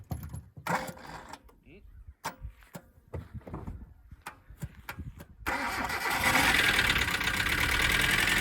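A cheap $1000 budget race car, jumped from a Hilux, cranks in several short bursts with pauses, then catches and settles into a loud, steady idle. A little talk is heard near the start.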